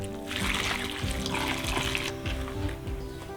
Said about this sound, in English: And then I add water.